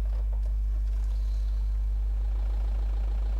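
A Peugeot 308 engine in a video game mod runs with a deep, constant rumbling drone, loud and steady throughout, sounding more like a truck than a car.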